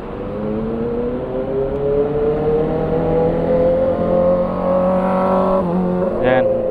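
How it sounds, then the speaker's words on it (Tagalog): Screamer motorbikes rev and pass along a road in Cavite, their rising engine whine climbing in pitch as they approach, then dropping abruptly, with a brief high revving burst near the end, and a voice talking faintly beneath. "So, yan, mga screamer bike yan."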